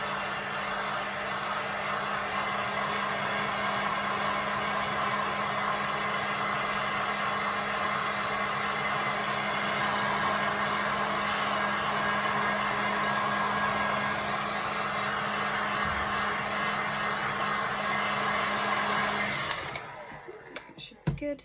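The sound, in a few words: heat gun blowing on silicone doll head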